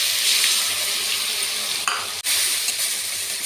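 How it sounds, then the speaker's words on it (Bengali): Spice mix sizzles steadily in hot oil with fried onions in a pan, a bright continuous frying hiss with a couple of brief clinks and scrapes from stirring, close and alone. "এবার এর মধ্যে আমি দিয়ে দেবো মশলা করে রেখেছিলাম, সেই মশলাটা।"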